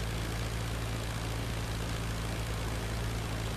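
Steady droning engine of a Sopwith Dolphin WWI biplane in the flight game IL-2 Flying Circus, a constant loud low hum with a wide noisy roar and no talking.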